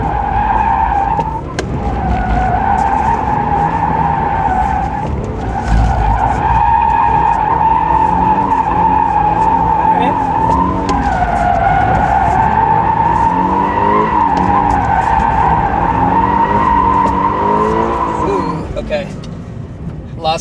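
A 2024 Toyota GR86 drifts around cones after a clutch kick, its tires screeching in a loud, sustained squeal over the engine's drone for nearly the whole stretch, with a driver talking over it.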